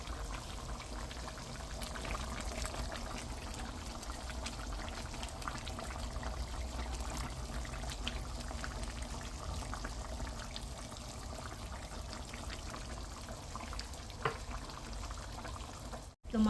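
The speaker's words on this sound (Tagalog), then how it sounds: "Lagyan natin ang cornstarch para lumapot yung sabaw." Cornstarch slurry poured into a simmering beef liver stew (igado) broth with carrots, giving a steady soft liquid pouring and bubbling wash that runs evenly throughout, ending in a brief clatter.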